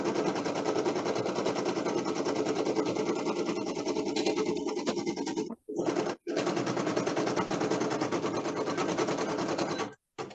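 Embroidery sewing machine stitching out a design, a steady loud rapid mechanical chatter running almost continuously, broken only by a couple of very brief pauses.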